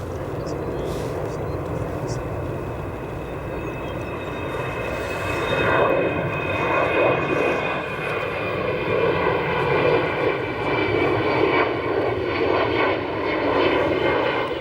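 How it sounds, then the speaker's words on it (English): An Embraer E170 jet departs O'Hare with a sustained engine roar that swells partway through and carries a whining tone, while a voice talks over it. "That departure you just saw, an Embraer E170E, Chicago to actually no destination"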